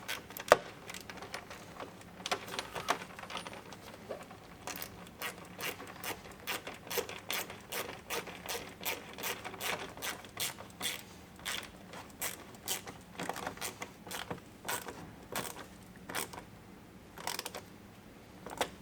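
A ratchet tightens a 1-inch screw with washer into a plastic fender insert on a 2018+ Arctic Cat Wildcat XX side-by-side. Quick, steady clicking runs nearly the whole time, close and moderately loud, with no talk.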